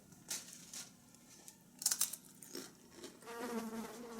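Faint buzzing of bees drifting around close by, with intermittent louder passes and light rustling crinkles underneath.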